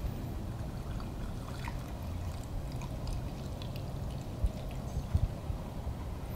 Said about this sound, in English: now we're going to add the gasoline to the secondary beaker with the AFC-710.